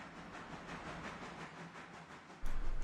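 A steam locomotive on a railroad builds up steam, a continuous rushing hiss with faint rhythmic chuffing pulses, then a sudden louder low rumble near the end.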